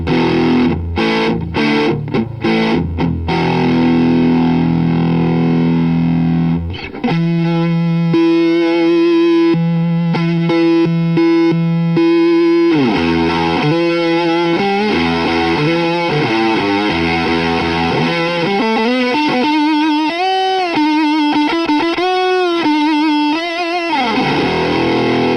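Overdriven electric guitar through a pedal chain without the Tentacle octave pedal, opening with choppy strummed chords, then sustained riffs and bending lead notes played continuously and loud, no talking.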